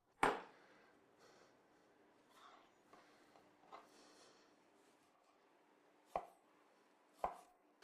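A knife cuts beef for beef bourguignon on a board, making a few distinct, quiet thuds spaced out between faint handling noises. There is no talk.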